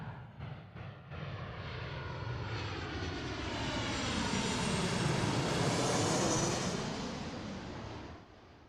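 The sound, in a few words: Boeing 737 airliner arriving, Star Wars livery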